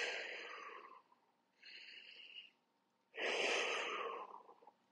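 A person on a Pilates reformer takes slow audible breaths, three separate inhales and exhales with short pauses between, close and fairly soft, the last one longest and strongest.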